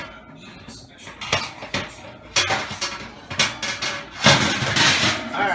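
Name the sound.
metal oven grates being changed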